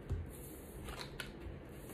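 Tarot cards are shuffled by hand in a brief burst of soft riffling and sliding, with a couple of sharper card snaps near the middle, fairly close and quiet with no talking.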